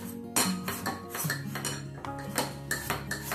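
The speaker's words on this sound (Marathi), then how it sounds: "या जाळीमध्ये थोडं थोडं पुरण टाकून अशा पद्धतीच्या पेल्याच्या किंवा भांड्याच्या सहाय्याने आपण" Cooked puran is pressed through a metal mesh strainer with a cup, giving repeated rhythmic metallic scrapes and clinks, close and fairly clear, with no talking.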